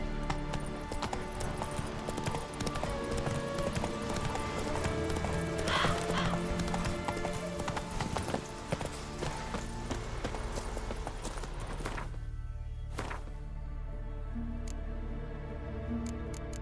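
Roach the horse gallops in The Witcher 3 on Death March difficulty, a dense quick clip-clop of hooves with a whinny partway through, under game music and ambience until the hoofbeats stop near the end.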